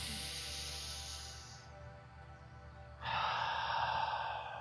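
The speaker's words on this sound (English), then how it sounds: "take a deep breath in again, centering ourselves" A slow, deep breath during a breathwork exercise: a long airy inhale fades into a pause, then a louder, fuller breathy exhale follows, close to the microphone with no talking.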